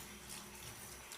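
Tap water pouring into a pot of chicken adobo, a soft continuous splashing rush, faint and close, with no voices.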